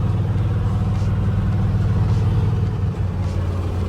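A 1971 Ford F250 truck cruises at about 40, its engine running rough as if missing a cylinder, a steady close drone with a low uneven rumble throughout.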